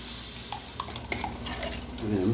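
Canned pumpkin goes into a pot of bacon, onion, garlic and brown sugar and is stirred. A spoon scrapes and taps against the pot, and the contents hiss softly in a brief, fairly quiet stretch.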